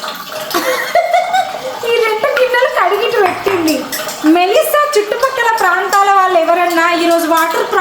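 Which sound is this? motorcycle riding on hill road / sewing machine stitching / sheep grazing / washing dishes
washing dishes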